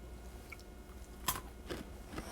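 Crunchy roasted seasoned chickpeas made in an air fryer being bitten and chewed, a few sharp close crunches standing out from quiet mouth noise.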